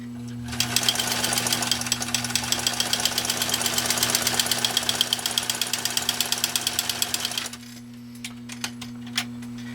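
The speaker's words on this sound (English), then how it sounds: "So here we go with the PFAFF 332, 2 thicknesses of nylon webbing." A fully restored PFAFF 332 all-metal walking-foot sewing machine stitches through two layers of nylon webbing in a fast, even mechanical rattle over a steady motor hum, then slows to a few separate stitches and stops.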